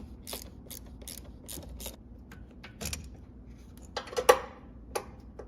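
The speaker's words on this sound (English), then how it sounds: "we are going to disconnect the battery by using an 8mm wrench to" An 8mm wrench ratchets on the negative battery terminal of a 2010-2014 Ford Mustang, giving a run of close, crisp clicks with a few louder metallic clacks near the end.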